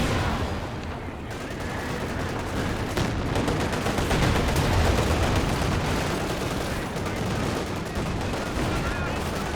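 Anti-tank guns firing in Company of Heroes 2 amid a busy battle, dense overlapping gunfire and explosions forming a loud continuous din, with a commentator's voice running underneath.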